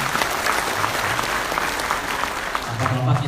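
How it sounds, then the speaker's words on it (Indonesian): Loud, sustained applause from a crowd of women at an Indonesian break-the-fast gathering, continuous clapping close by with a murmur of voices beneath it. "Tepuk tangan dulu buat ibu-ibu semuanya"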